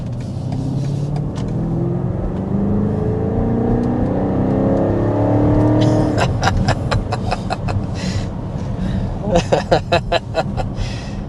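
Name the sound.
BMW X6 M60i accelerating to 60 mph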